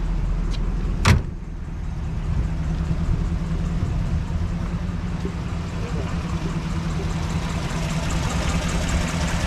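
A 1952 Buick engine turns over after a door thump, then settles into a steady low idle that runs on evenly, with faint talk in the background.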